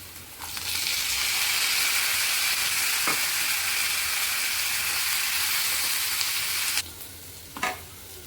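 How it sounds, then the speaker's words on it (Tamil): Onion and jackfruit seeds frying in a pan, a loud steady sizzle with occasional stirring knocks that drops off sharply near the end. "வெங்காயம் நல்லா வதங்கி வந்துடுச்சு. இன்னமா பலாக்கொட்டை போட்டுக்கலாம்."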